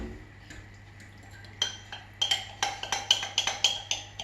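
A spoon stirring oatmeal chocolate chip cookie dough in a bowl, starting with soft scraping, then quick rhythmic clinks and taps against the bowl that grow busier and louder toward the end, close and without talk.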